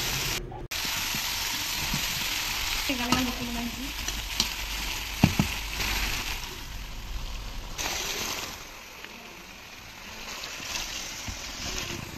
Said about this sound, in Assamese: এয়া এতিয়া আৰু ধুনীয়াকৈ অকণমান সময় ভাজি দিম।